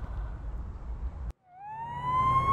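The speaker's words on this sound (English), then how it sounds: "I'm going to go ahead and kill our siren." A police car siren in the game Police Simulator winds up after a brief silence, rising in pitch and growing loud and close over a low engine rumble.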